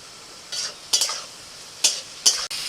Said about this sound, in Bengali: বিনস, ক্যাপসিকাম, গাজর আর কাঁচা লঙ্কা একসাথে ভেজে দিচ্ছি